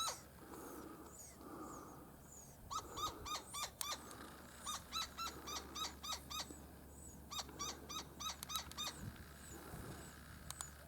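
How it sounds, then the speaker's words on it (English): A Gila woodpecker calls near its nest in a saguaro in the Sonoran Desert at Organ Pipe Cactus National Monument, giving long runs of sharp, rhythmic, repeated notes, fairly close, with short pauses between bursts and no talk. "That's a Gila woodpecker."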